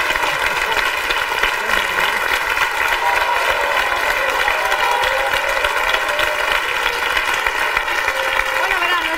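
Studio audience on a Spanish daytime talk show applauding three departing guests, a dense, even wash of clapping held at constant loudness for several seconds with a faint voice threading through.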